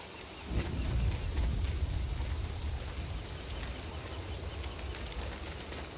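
Steady rain falls in the video game Don't Starve Together, a constant broadband hiss that holds evenly throughout with no talking.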